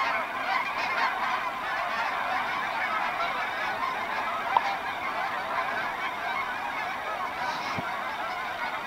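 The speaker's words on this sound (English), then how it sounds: "Geese, not ducks." A dense flock of geese honks continuously at a distance in a Northern Colorado winter eagle watch area, a steady wash of overlapping calls with no pauses.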